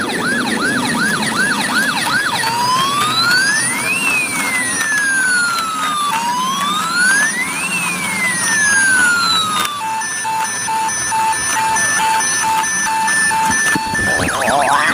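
Electronic toy ambulance siren cycling through rising and falling wails, then switching to a steady beeping two-tone pattern, loud and close, running continuously with no talk.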